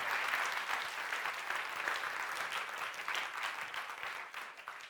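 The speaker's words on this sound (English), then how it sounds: "A climactic cyclone of applause, please, for Sam Hatfield." Sustained audience applause at a science communication competition final, a dense steady wash of many hands clapping at moderate level, easing slightly toward the end with no talk over it.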